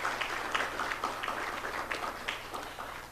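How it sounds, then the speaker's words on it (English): Audience at a university honors program ceremony gives a steady round of applause for the honors scholars, a dense, even wash of clapping in a large room lasting throughout. "let's give the honor scholars another round of applause"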